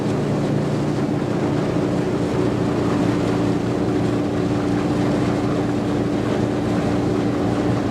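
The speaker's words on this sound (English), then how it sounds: "These Cummins engines, and the ones that are available for the sewage bypass are propane or natural gas." A propane-fuelled Cummins engine driving a sewage bypass pump runs close and loud, holding a constant droning hum with a strong steady low tone throughout and no pauses.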